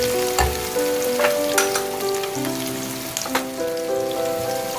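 Thinly sliced large onion sizzles in a pan with a steady, dense crackle, and occasional stirring clatters and scrapes sound close by.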